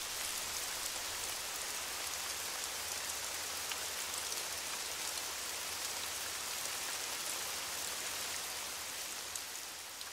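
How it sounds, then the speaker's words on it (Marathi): Steady, even rain pours down continuously, a dense hiss of drops striking surfaces close by with no pauses or other sounds. "पाऊस कधीचा पडतो."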